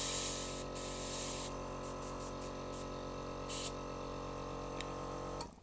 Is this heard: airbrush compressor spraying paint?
yes